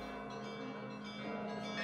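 Church bells of a Russian church ring continuously in a dense, sustained wash of overlapping tones, fairly loud and steady throughout with no voices.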